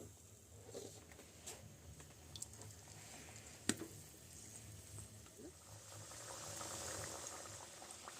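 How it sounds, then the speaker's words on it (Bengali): Homemade biscuits fry in a batch of hot oil, bubbling and gently sizzling at low volume, with a few faint clicks from the pan. "আর দুটো ব্যাচে সমস্ত বিস্কুটগুলোকে একইভাবে ভেজে নেব"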